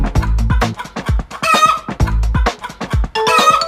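A hen clucks loudly and close up in quick bursts, with a few higher squawking cackles mixed in, no talking.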